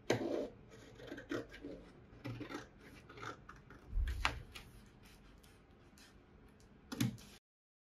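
Scissors snipping through fabric while cutting out a bodice pattern, giving quiet, intermittent crisp snips and rustling scrapes at close range, with a thud partway through.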